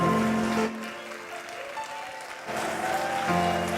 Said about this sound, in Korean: 여러분 뜨거운 박수로 다시 한번 축복하겠습니다